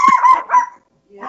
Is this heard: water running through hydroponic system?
no